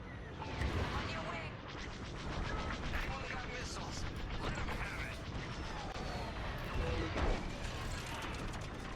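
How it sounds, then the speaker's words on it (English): Enemy gunfire aimed at the player in a video game, rapid mechanical rattling and clanking shots over a dense, continuous din of game noise, moderately loud, with a person talking over it. "these guys are shooting at me too"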